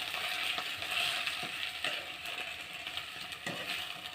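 Spices sizzling and crackling in hot oil while tempering a dish, a steady hiss with scattered small pops and light scraping, close and moderately loud with no talk.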